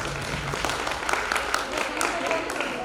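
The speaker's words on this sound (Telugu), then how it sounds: "లలితకి ఒకసారి గట్టిగా చప్పట్లు కొట్టాలి" Applause for Lalitha at a 1998–1999 batch alumni reunion gathering, a steady crowd clapping that lasts about three seconds and is fairly loud and dense, with some voices mixed in.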